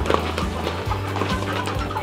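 Chickens and a Muscovy duck cluck softly amid a busy jumble of pecking and shuffling as they feed on leaves and grass, with a low, steady hum running underneath throughout.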